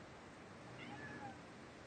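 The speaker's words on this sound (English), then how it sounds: "here's my kitty cat" A domestic cat meows faintly, a couple of short tonal calls over a steady background hiss in a quiet room.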